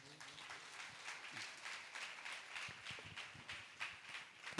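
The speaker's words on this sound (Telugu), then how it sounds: "చప్పట్లు కొట్టండి" Clapping from a church congregation at a Telugu Christian pastor's testimony service, a steady patter of applause with some voices mixed in, moderately quiet.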